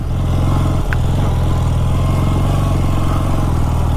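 A 48-year-old Honda motorcycle engine runs steadily and close by, with a low, pulsing idle-to-cruise drone and a brief clatter near the start, alone without talk.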